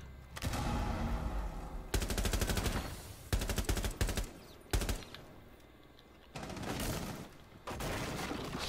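Bursts of automatic gunfire in the tactical shooter Rainbow Six Siege, several loud rapid volleys separated by short gaps, with no talk over them.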